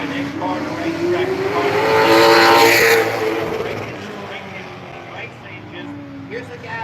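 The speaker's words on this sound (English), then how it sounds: "Next car to racetrack." A race car engine swelling as it passes close on a racetrack, loud at the peak and then fading away, with an announcer talking over it.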